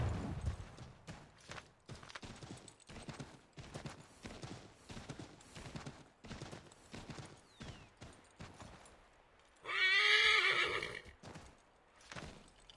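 A horse in a video game rears with one loud, sharp whinny near the end, after a stretch of quieter hoof clatter and shuffling.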